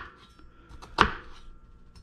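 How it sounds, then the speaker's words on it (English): A knife cuts through an onion with a single sharp chop against a board, preceded by faint light taps, close and quiet with no voices. "when we're cutting an onion"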